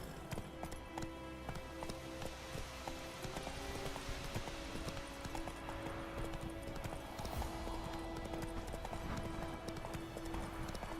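The horse Roach gallops in The Witcher 3 video game, rapid rhythmic hoof clip-clops on a road, steady and moderately close over a quiet ambient background with faint music.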